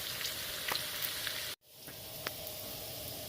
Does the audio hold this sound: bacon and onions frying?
yes